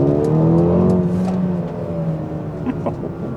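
Mercedes GLB35 AMG, a 300-horsepower four-wheel-drive SUV in Sports Plus mode, accelerates with a loud, steady engine drone whose pitch climbs from inside the cabin, the revs easing slightly toward the end.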